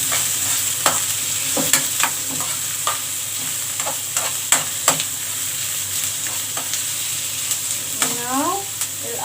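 Onion frying in a pan for macaroni bechamel while being stirred, a continuous sizzle broken by repeated sharp scrapes and clicks of a utensil against the pan, with a squeaky scraping run near the end.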